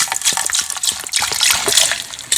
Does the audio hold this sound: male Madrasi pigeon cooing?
no